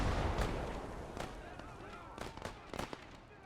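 Tank cannon and gunfire in the World War II game Gates of Hell: Ostfront, with several distant booms and sharp cracks scattered over a steady rumbling battlefield background.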